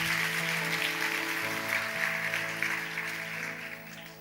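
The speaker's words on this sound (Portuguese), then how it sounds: "Dê o melhor aplauso que você pode dar ao Senhor" A church congregation gives sustained applause over a held musical backing, a dense wash of clapping that stays steady and then slowly fades.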